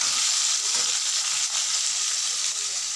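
Potato, eggplant and pumpkin pieces fry in a pan until browned, making a loud, dense sizzle that stays close and constant from start to finish with no talk over it.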